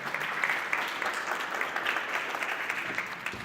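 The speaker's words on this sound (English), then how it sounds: "A round of applause." An audience at a Riga data centre opening ceremony applauds to welcome the founder to the stage, with steady continuous clapping throughout and no talk over it.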